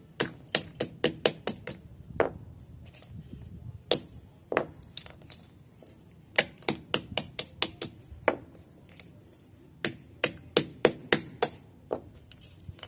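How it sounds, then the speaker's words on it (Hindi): Fired clay oil lamps are smashed into pieces for a bonsai pot, giving a series of sharp, close cracking knocks in irregular bursts with brief pauses between them. "अब हम इनको तोड़ेंगे और तोड़ के अपने बॉन्साई पॉट में डालेंगे।"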